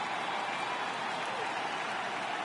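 A stadium crowd in the MLB 18 video game roars and claps steadily as the home team takes the field, a continuous wash of cheering and applause with no break.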